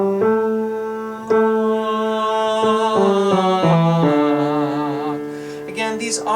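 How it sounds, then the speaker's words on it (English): A baritone singer sings held tones that glide from a dull nasal ng into an open ah vowel, a rear-resonance exercise with steady pitched notes stepping downward, close and clear, with no other sounds. "the duller sounding ng to ah vowel transition"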